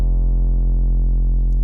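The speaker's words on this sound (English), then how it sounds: "we're adding oscillator B, which is this Digimon wavetable, which is actually modulating oscillator A." In the Serum synthesizer, a sine oscillator is modulated by a Digimon wavetable, giving a loud, sustained low bass tone with a fuzzy, slightly pulsing buzz and no voices.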